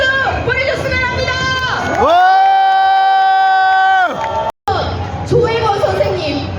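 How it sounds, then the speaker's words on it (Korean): Outdoor protest rally crowd cheering and applauding loudly, with a sustained collective shout rising in the middle, then scattered clapping and voices returning after a brief cut. "서로에게 뜨거운 박수 보내줬으면 합니다."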